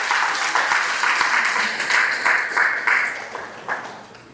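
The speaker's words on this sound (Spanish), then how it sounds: "Vamos, dale palmas al Señor de la gloria." A church congregation claps in loose rhythmic bursts, fairly loud and close, with the clapping pulsing unevenly and fading slightly toward the end.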